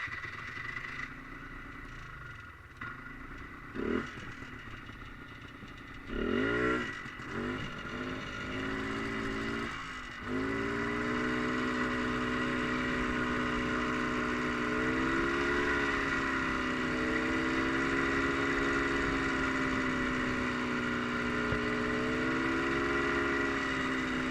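A Polaris Trailblazer 250 ATV cranks with a few sputtering attempts, catches, and then settles into a steady, close idle with a buzzy engine drone that holds for the rest of the stretch.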